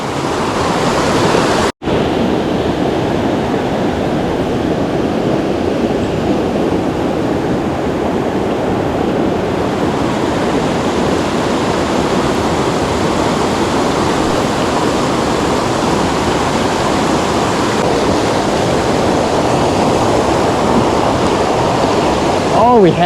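River waterfall and fast-flowing water, a loud, close, continuous roar of rushing current that stays steady, broken only by a single sharp click near the start.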